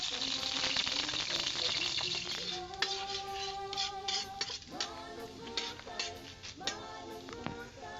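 Ingredients for a balagay (sigarilyas) dish hit hot cooking oil and sizzle loudly in a pan, a steady frying hiss with occasional clinks of utensils, then the sizzle settles as stirring continues.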